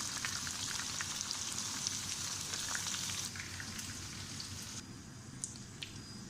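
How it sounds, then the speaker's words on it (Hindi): Okra frying in oil sputters with a dense, steady crackle and fine popping that never lets up, close and moderately loud with no voices over it. "बाकी भिंडी को भी हम निकालेंगे, ये भी फ्राई हो चुके हैं।"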